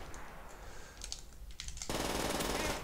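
PPSH submachine gun firing in the World at War video game: a short burst of rapid shots, then a dense, loud stream of continuous automatic fire for the final second.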